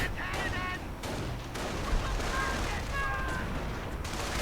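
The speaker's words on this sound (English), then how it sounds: "Just firing into their sort of usual spot there." Gunfire in a World War II strategy video game, with repeated shots and battle noise running steadily through the clip beneath a continuous mix of game sounds and faint voices.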